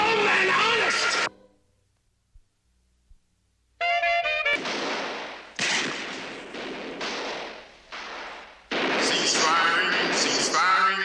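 Gunfire on a police shooting range: loud sharp bursts of shots in clustered volleys, separated by a brief quiet gap, with voices speaking over parts of it.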